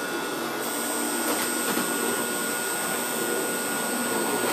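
Bowser O gauge Brill trolley model with an open frame motor running, a steady whirring motor hum with a high whine, close and continuous, no speech.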